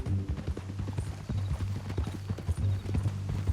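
Horse hooves clip-clop at a steady riding pace in the Red Dead Redemption II video game, with quick, close, rhythmic hoofbeats running the whole time.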